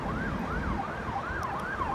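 An ambulance or police siren wails in a steady rising-and-falling sweep as the vehicle rides by, loud and continuous over a rumble of road traffic with no talking.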